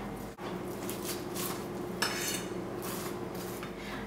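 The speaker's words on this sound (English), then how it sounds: "I'm just raking this out with a fork" Fork scraping and raking the cooked flesh of a spaghetti squash out of its skin, a steady run of close, soft scratchy strokes with light dish clatter and no talk.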